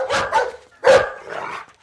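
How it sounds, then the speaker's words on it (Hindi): A dog barks three times in close succession, loud and near, the middle bark sharpest, with a brief gap before a softer final yelp and no talking over it. "अबे कुत्ते क्यों भौंक रहा है?"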